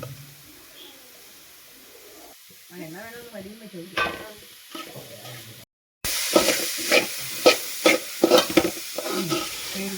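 Onions fry and are stirred in a pan for a country chicken curry, giving a close sizzle with scraping strokes that grows louder and busier partway through, with no talking.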